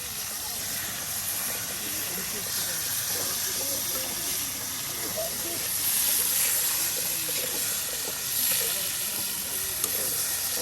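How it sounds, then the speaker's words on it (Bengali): Potatoes frying in hot oil as part of a rustic outdoor fish cooking setup, giving a steady broadband sizzle and hiss that swells slightly midway, with faint voices in the background. "এখন আলুগুলো ভেজে নেওয়া হচ্ছে"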